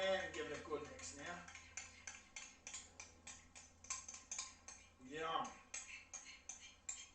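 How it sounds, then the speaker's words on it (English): A small utensil scrapes and taps rhythmically against a bowl while coleslaw is mixed with its sauce, the soft clicking steady and close, with a brief voice. "I'll just mix that with the same little utensil"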